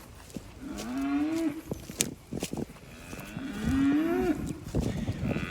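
Cattle moo in two long, drawn-out calls with a rising then falling pitch, loud and close on an open farm pasture, a mama cow among her grown offspring, with faint outdoor rustling between calls.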